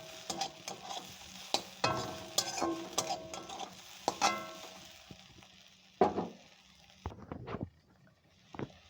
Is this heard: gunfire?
no